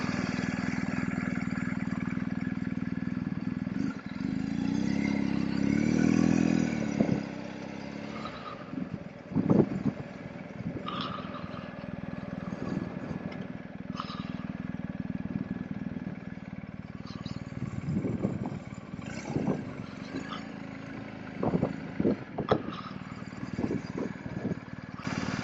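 A motorcycle engine runs at a low idle, quiet and steady, with occasional clicks and handling noises over it and a brief swell in the middle before the sound turns patchy.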